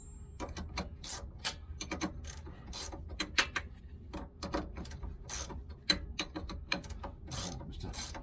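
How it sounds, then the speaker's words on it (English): A ratchet wrench clicks rapidly in close, loud bursts during steering box replacement on a 1995 Range Rover Classic 300TDi, repeated quick pawl ticks with short gaps and no talking. "Ratchets."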